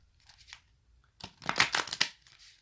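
Tarot cards shuffled by hand, a quiet riffle at first followed by a louder, rapid burst of flicking and slapping card sounds, close up with no talking.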